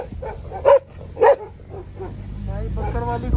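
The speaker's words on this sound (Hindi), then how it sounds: "भाई बकर वाली कुत्ते आ गए भाई खाने के लिए" Bakarwal shepherd dogs at a night camp in the Himachal mountains give two loud, close barks, then a series of softer yips and whines, with someone talking over them.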